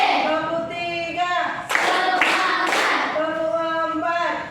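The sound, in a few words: children clapping hands in rhythm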